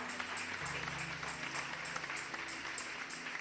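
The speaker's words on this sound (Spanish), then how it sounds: "Otro aplauso fuerte al Señor." A church congregation applauds, a soft, steady patter of many hands clapping at a distance over sustained musical tones.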